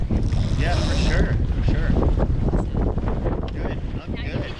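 Wind gusts roar across the microphone aboard a Martin 16 sailboat, with rushing water and hull noise underneath and a voice speaking briefly near the start.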